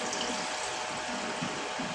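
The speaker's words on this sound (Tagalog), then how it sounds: "ilalagay ko na isang litrong tubig" A liter of water is poured into a cooking pot for a fish soup with sweet potato leaves, a steady splashing rush that continues for two seconds with no talk.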